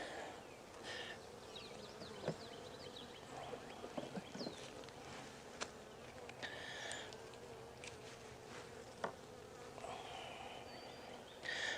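Honey bees buzz around a five-frame nuc as the queen is caged and loose bees are transferred, a faint, continuous hum with occasional nearer bees zipping past and light handling clicks.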